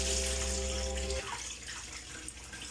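Cooked pork crucetas being drained in a kitchen: a steady rush of water pouring out for about a second, then cutting to softer trickling and dripping that fades, with no talking.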